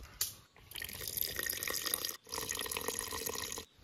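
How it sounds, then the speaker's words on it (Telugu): A steady stream of water pours into a metal pot of mutton curry, loud and close, stopping briefly twice before resuming. "దోస్తులు మన మటన్ ఉడకడానికి సరిపడిన నీళ్ళు పోసుకుందాం ఇప్పుడు"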